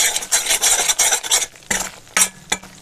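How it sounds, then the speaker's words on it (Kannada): Wheat flour being stirred and dry-roasted in a pan over low heat, with a spoon scraping in repeated rasping strokes, then sharper isolated scrapes and taps against the pan; no voices. "ಸ್ವಲ್ಪ ಸಿಮ್ಮಲ್ಲಿಟ್ಟು ಫ್ರೈ ಮಾಡಬೇಕು, ಹುರಿಬೇಕು."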